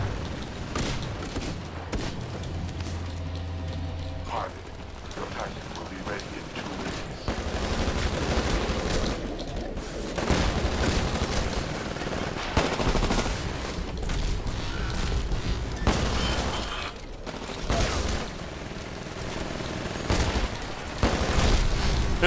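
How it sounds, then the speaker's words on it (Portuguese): Dense gunfire and repeated grenade explosions in a Titanfall Attrition match on Dig Site 7, loud continuous bursts of automatic fire punctuated by booming blasts throughout. "Meu Deus, quanta granada"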